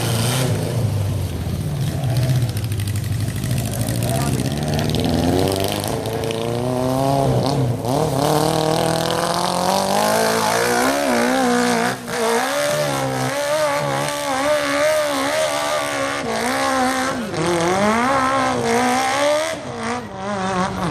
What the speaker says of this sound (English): street bike conquers epic enduro hill